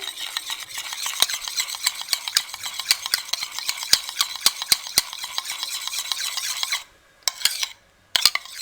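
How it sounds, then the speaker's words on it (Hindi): Three tablespoons of yogurt are beaten with a spoon in a vessel of warmed cream while making homemade desi butter: fast, regular scraping and clicking strokes, close and fairly loud, briefly pausing near the end, with no speech. "दही को हम अच्छे से बीट कर लेंगे।"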